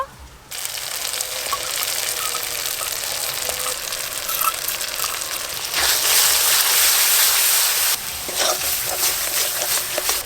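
Ground spice paste frying in a pan with ginger, garlic and onion gives a steady, dense sizzle that runs the whole time and swells louder near the middle, with no talk over it.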